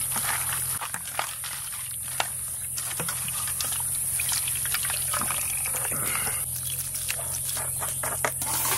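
Running water splashes and trickles continuously while large fish are rinsed for curry, with occasional knocks and handling noises close by and a steady hum underneath.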